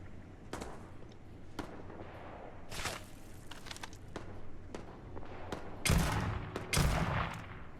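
Scattered gunfire from the video game Starfield, with sharp cracks at irregular intervals and two louder, heavier blasts near the end, over a steady low background hum.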